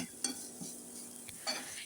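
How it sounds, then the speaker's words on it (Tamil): Quiet stirring and scraping of a utensil in a pan of sautéing onions and vegetables with turmeric powder, with a few soft clinks and a faint sizzle underneath. "எல்லாமே நல்லா அந்த மஞ்சள் தூள் கூட வெங்காயத்து கூட மிக்ஸ் ஆகுற மாதிரி நல்லா வதக்கி விடுங்க"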